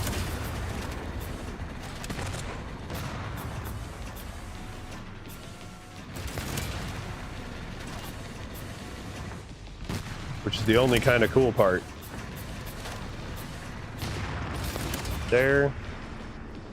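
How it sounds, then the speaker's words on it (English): Mortar fire in a video game gives several heavy booming thuds, with bursts of loud layered impacts toward the end, while someone talks casually over much of it. "Now I get to run the mortar."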